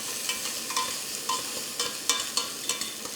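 Garlic sizzling in a hot pan for braised pork belly is stirred, with a steady frying hiss broken by several short scraping stirs at a close, moderate level and no talking.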